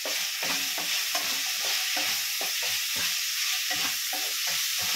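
Chicken stir fry with soy sauce stirred in a pan, a steady loud sizzle with rapid, repeated scraping strokes of a spatula throughout, no voices.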